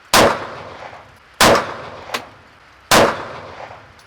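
Three loud, sharp handgun shots at an outdoor range, each spaced about 1.4 seconds apart with a decaying echo tail. After the second shot comes a faint distant ping, as a round strikes a steel target.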